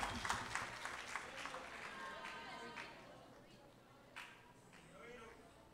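An audience at a cultural performance event applauds in a brisk, crackling burst that gradually fades over several seconds, with voices mixed in.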